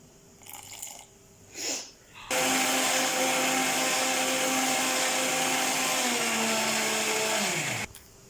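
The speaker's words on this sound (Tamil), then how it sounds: "கொஞ்சோண்டு தண்ணியை விட்டு அரைக்கலாம்." Mixer grinder whirring steadily for several seconds as it grinds spicy Madurai-style kara chutney with a little water, starting abruptly after brief clatter and stopping at the end.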